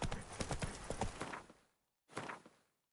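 Horse hooves clip-clop in The Witcher 3 video game, a quick run of close, crisp hoofbeats that fades out, then a short second burst after a brief silence.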